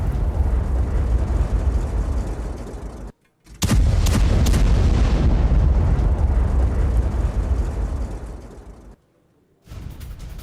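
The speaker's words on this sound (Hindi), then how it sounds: "विस्फोट से मस्जिद को उड़ाने का दावा किया गया" A mosque in Lebanon is blown up, and a heavy explosion roars with a deep rumbling blast and crackling debris, loud and sustained for several seconds, broken by brief cuts of silence.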